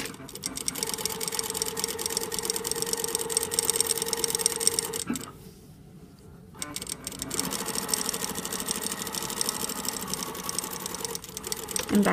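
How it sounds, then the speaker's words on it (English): A sewing machine stitching a flat felled seam whirs steadily and close, stopping briefly midway for a back tack, then running again at an even pace. "So I start sewing"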